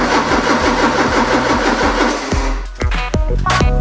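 A Porsche 944 engine cranks without catching, the starter churning in a fast loud rhythmic chug up close, then cutting off into a few clunks and clicks.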